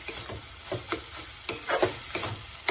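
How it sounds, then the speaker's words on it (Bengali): Red chili powder being stirred into the frying pav bhaji mixture over a raised gas flame, with repeated close scraping strokes of a spoon against the pan over a steady sizzle. "দিয়ে ভালো করে মিশিয়ে নেব এই সময় আমি গ্যাসটা একটু বাড়িয়ে নিচ্ছি"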